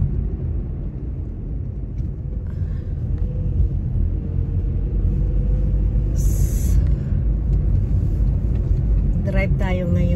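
An Audi car driving on a cold day in Germany, heard from inside as a steady low engine and road rumble, with a person talking over it.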